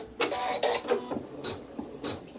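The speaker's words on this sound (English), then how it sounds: "using the neutral thread, we're going to stitch another seam" A sewing machine stitches a fabric seam with neutral thread while piecing a quilt, giving a close, rapid series of mechanical bursts and clicks in quick succession that start and stop several times over about two seconds, no voices.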